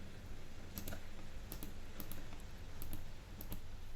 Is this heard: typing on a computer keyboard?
yes